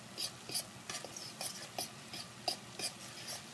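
A spoon scrapes and stirs a flour roux in a pot on the stove for New England clam chowder, producing soft, regular strokes with quiet, faint scraping and no talking.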